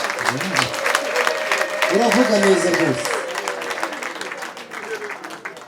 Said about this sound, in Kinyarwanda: bakumpera amashyi